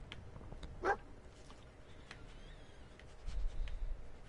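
Dogmeat, the dog companion in Fallout 4, gives a single short bark near the start, fairly faint against a low in-game ambient rumble with a few soft clicks.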